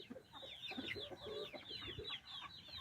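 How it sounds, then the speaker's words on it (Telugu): Asil hens cluck around a basket while looking for a place to lay eggs, giving a steady run of close, moderately loud clucks and chirpy calls with no talking. "నెమలి పెట్ట గంప చుట్టూ తిరిగేస్తుంది గుడ్డు కోసం."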